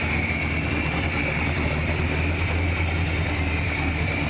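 A 1958 Chevrolet Apache Fleetside pickup with its engine idling, heard as a steady low rumble through exhaust without real mufflers. The tone stays loud and close and holds constant throughout, with no talk.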